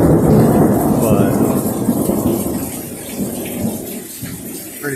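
A loud thunderstorm with heavy cloud-to-cloud thunder rolling over steady rain in a bamboo grove, the deep rumble strongest at the start and slowly fading under the constant downpour.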